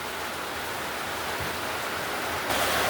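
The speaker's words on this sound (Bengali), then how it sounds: "এই যে দেখো কেমন জোরে বৃষ্টি হচ্ছে" Heavy rain pours outside in Bangaon, a dense, steady hiss that fills the whole clip at constant loudness with no talk, swelling slightly louder near the end.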